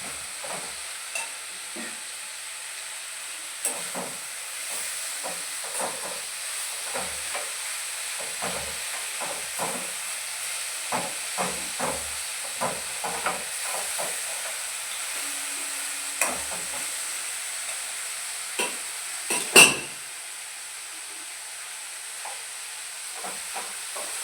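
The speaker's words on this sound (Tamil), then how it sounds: "இது நல்லா வதங்கணுங்க வதங்க வரைக்கும் வதக்கி எடுக்கணும் இந்த தக்காளி நல்லா வதங்கலை" Tomatoes sautéing in a pan for roadside-style parotta salna, with a soft sizzle under repeated light scraping and stirring strokes and an occasional louder clank, close and steady throughout.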